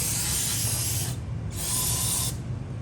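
Lucas Oil aerosol cleaner sprayed onto 2.0T engine parts during piston rod and cylinder wall prep gives two long, close hissing bursts with a short pause between, and no talking.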